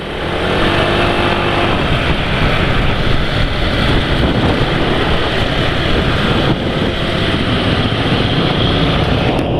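A new Honda Vario scooter's engine running rough and harsh, a steady loud mechanical drone with wind buffeting throughout, no talk.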